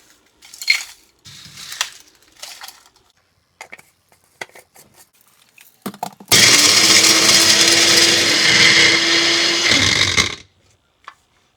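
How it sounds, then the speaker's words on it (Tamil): A kitchen mixer grinder roars loudly and steadily for about four seconds as it grinds roasted mutton masala spices into powder, preceded by scattered clicks and handling sounds. "இது மிக்சியில் போட்டு பொடி பண்ணிக்கலாம்"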